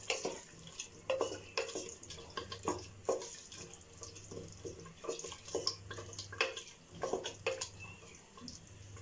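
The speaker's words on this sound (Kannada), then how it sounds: "ಈಗ ಚೆನ್ನಾಗಿ ಮಿಕ್ಸ್ ಮಾಡ್ಕೊಳ್ಳೋಣ." A spoon stirs tomatoes in a cooking pan for veg pulao, with repeated close scraping and soft wet clatter in an uneven rhythm, and no one speaks.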